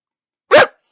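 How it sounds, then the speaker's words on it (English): A dog gives a single short, sharp bark, loud and close, with silence before and after it. "my dog is barking"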